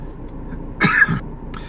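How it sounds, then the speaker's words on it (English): A short, harsh cough, a sharp burst followed quickly by a second, close and fairly loud against a quiet background. "sorry for the coughing."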